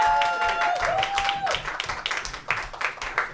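A comedy club audience claps and cheers for comedian J.P. McDade at a New York roast battle show, a dense, steady burst of many hands close by, with a tonal whistle-like sound briefly over it early on.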